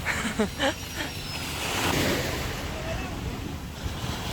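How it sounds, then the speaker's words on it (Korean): Ocean surf washes in with a broad hiss under gusty wind noise on the microphone, while people talk briefly at the start. Philippine coast, calmer waves than the day before. "어제보다는 파도가 덜해요"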